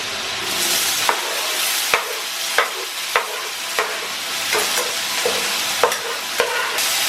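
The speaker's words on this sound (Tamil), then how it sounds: "வெங்காயம் நல்லா வறுக்கணும், பச்சையாகவே இருக்கக்கூடாது." Steady sizzling of onions frying in a pan, with light scraping stirs at regular intervals, close and continuous with no talking.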